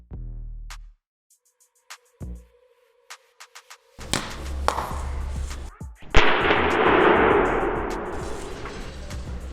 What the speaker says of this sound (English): Next, last drop from pocket height, display side facing down.